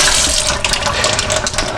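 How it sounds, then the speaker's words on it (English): Water runs steadily from a studio sink tap during cleanup of oil-based relief printing ink, a loud continuous splashing stream heard on its own. "I'm gonna turn the water off for a second."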